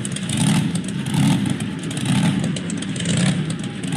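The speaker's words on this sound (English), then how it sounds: "I think I can hear those zombie monster trucks." Zombie monster truck engines in the BeamNG Drive video game give a steady, rough mid-pitched roar that swells and eases in slow waves, with no talking.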